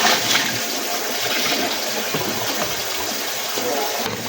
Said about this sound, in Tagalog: Hugasan po natin ng maayos na maayos para mas malinis.